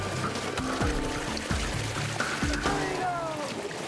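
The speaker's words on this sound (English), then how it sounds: "the water rushes in" Water rushing into a sinking car floods the cabin with a steady, loud gushing and churning, while low knocks and creaks of the submerged vehicle sound throughout.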